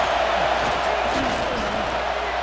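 A stadium crowd roars in the College Football 26 video game during an Illinois vs. Texas playoff game, a steady, dense wall of noise running throughout with faint voices beneath it.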